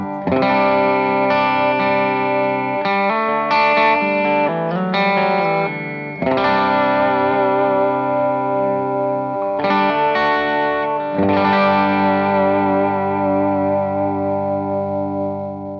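Electric guitar chords strummed and let ring through a light overdrive pedal, with a mildly gritty tone, moderately loud, with a few quick chord changes and no talking.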